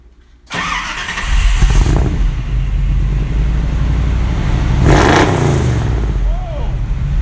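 A Chevy K10 pickup fires up after a brief crank and settles into a loud, deep rumbling idle through a new MagnaFlow exhaust, with a couple of throttle blips swelling the roar.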